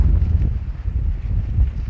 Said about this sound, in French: Et on a un vent onshore.